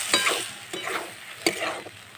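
Chicken masala with whisked sour yogurt is sautéed and stirred in a pan, with three sharp scraping strokes of a spatula over a soft sizzle; no voices.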